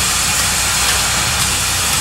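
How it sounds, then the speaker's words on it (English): Steam locomotives NKP 587 and S&A 750, built in 1910 and 1918, working an excursion train: a steady, continuous hiss and low rumble of steam and machinery, loud and close, with no talk. "The only surviving steam locomotive, built in 1910 and 1918."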